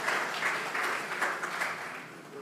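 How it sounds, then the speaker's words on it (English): Audience at the AfriCaribbean Trade and Investment Forum applauding panelists after a discussion, a soft, steady patter of many hands clapping with a few louder bursts, fairly distant and alone. "Let's give our panelists a round of applause again"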